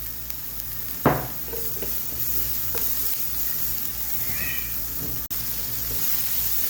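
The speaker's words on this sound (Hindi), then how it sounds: "इसको हल्का सा सौते करेंगे।" Shredded cabbage and green chili sauté in a pan, giving a steady, soft sizzle with a few sharp clinks of a utensil against the pan and light stirring noises throughout.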